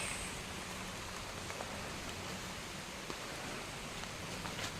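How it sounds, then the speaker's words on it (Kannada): Steady rain falls outdoors in a rural area as someone hurries home carrying freshly cut grass, a continuous even hiss of drops with no voices. "ನೋಡಿ ಮಳೆ ಬರ್ತಾ ಇದೆ"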